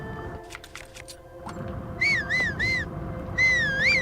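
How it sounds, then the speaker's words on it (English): A person whistles several short, rising-and-falling notes in quick succession over game background noise, loud and close with no talking. "I don't know why I whistled."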